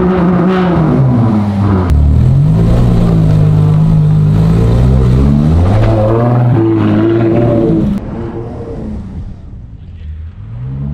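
Ferrari Monza SP1 V12 engine revving hard on the Maranello track, loud and close, with rising and falling gear-by-gear sweeps that ease off toward the end.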